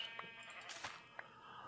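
Several short, soft Minecraft sheep bleats come one after another, faint against low in-game ambience.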